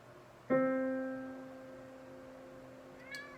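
A cat lets out a single clear, drawn-out meow close by during a piano lesson, fading slowly, followed by a faint short sound near the end; no one speaks.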